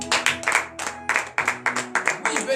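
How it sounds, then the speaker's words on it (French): A church congregation at a morning prayer service in Benin claps in uneven, sharp bursts, with a few pauses between rounds and some voices mixed in. "Donne de vive acclamation à notre Seigneur Jésus."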